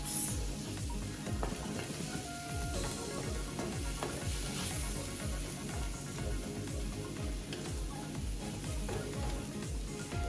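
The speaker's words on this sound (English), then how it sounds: "Just keep stirring and push the those curry lumps" Panang curry paste being stirred into coconut milk in a pan gives a steady, close sizzle with rhythmic scraping strokes throughout.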